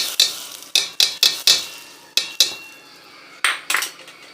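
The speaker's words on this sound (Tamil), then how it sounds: "எடுத்து சாம்பாரில் கொட்டிக்கலாம்." Metal spoon or ladle clinking against a pan and pot as a tamil tempering is poured into simmering sambar, a series of sharp, close clanks spaced irregularly, alone with no talk.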